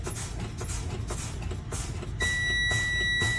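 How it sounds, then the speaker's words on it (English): A low rumbling Freightliner water truck engine drones steadily, then a high, steady low air pressure warning buzzer starts partway through and holds over the rumble as the air tank loses pressure. "we have signals, and we have the buzzer noise as well"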